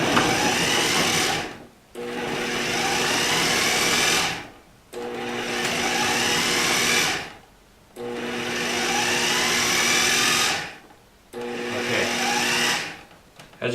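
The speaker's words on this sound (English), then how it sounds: "we're going to pulse it so everything gets drawn and it creates a suction and everything will get blended" A food processor chopping sprout granola runs in four pulses of roughly three seconds each, a loud whirring motor grind with short silent gaps between bursts.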